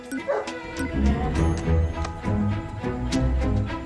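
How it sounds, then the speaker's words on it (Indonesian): Several short dog barks and yips come in irregular bursts, close by, over a steady background of music or other sound. "Michael keganggu denger gonggongannya Sundance"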